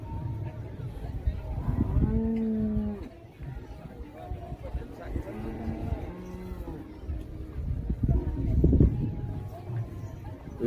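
Sindhi cows low several times at a livestock, poultry and fisheries fair, with moderately close moos rising over constant crowd chatter and background noise.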